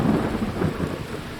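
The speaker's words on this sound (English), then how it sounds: "she's out here in the rain" Rain and rolling thunder in the video game Skyrim, a steady wash of rainfall with a low rumble swelling underneath, continuous and fairly loud with no voices.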